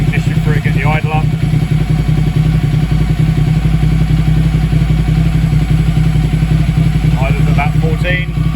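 A motorcycle engine idles loud and close with a steady, throbbing low rumble throughout, and a voice speaks briefly over it.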